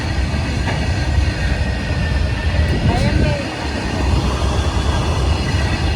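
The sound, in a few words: goods train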